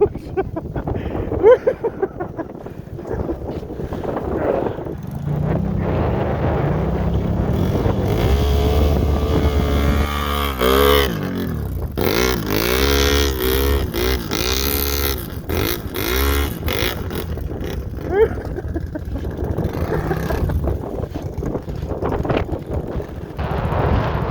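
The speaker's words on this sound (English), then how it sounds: "It's a little windy out here today, boys. Little windy." Strong wind buffets the microphone with a constant low roar, and a snowmobile engine drones and revs underneath.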